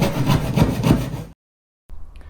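A saw cuts through wood for a hidden storage compartment in a CV40 campervan, with steady rhythmic back-and-forth strokes, loud and close, then a pause before quieter sawing resumes.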